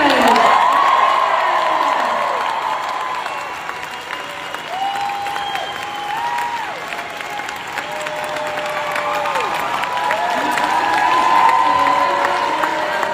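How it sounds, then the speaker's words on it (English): A convention panel audience at Megacon bursts into loud, sustained applause and cheering for a Doctor Who companions panel, with whoops over the clapping and a voice speaking through the noise as it gradually eases. "Let's give one more round of applause"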